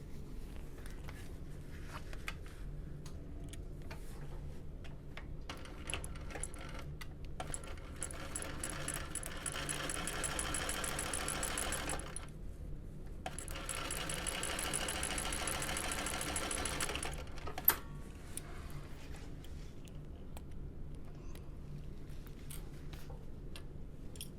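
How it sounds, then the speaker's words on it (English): A sewing machine stitching fabric for a bucket bag, running steadily in two long stretches with a short pause between, the fine rapid stitching rhythm faint and close with quiet handling around it. "I'm just going to sew it all together at 3/8 of an inch"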